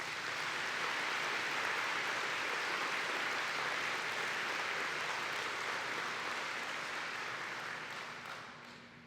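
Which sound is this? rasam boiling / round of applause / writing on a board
round of applause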